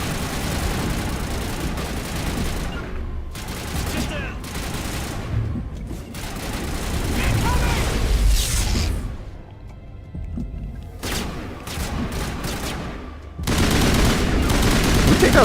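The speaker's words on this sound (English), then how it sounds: "these turrets hurt" Heavy turret gunfire in a 2007 space RPG video game, with dense bursts of rapid automatic shots and a few brief lulls, loud and close throughout.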